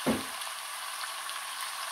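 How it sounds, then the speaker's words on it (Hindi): Chicken and green chilies frying in a pan for chicken jalfrezi, a steady broadband sizzle that runs evenly throughout, close and moderately loud, opening with a brief low thump as the pan is handled; no one speaks. "और इसको 1 से 2 मिनट तक भून लेंगे।"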